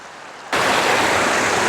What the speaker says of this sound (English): Here's another stream